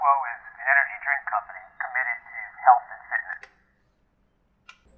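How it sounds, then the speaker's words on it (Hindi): A voice run through Adobe Audition's telephone effect, thin and narrow like speech over a phone line, talking steadily for a few seconds before falling silent. "जैसे टेलीफोन वॉइस।"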